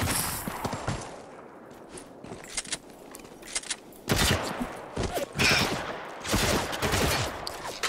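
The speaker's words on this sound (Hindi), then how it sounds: "ये शॉटगन बड़ी पावरफुल है" Shotgun blasts in the video game Spec Ops: The Line, several loud bursts of gunfire with clattering effects and rumble, arriving in clusters over steady battle noise.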